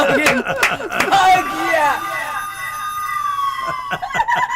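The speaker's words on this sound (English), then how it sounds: "Here goes the siren." A loud siren effect wails through repeated rising and falling sweeps on a metal radio show, with voices talking over its start and a long trailing tone fading at the end.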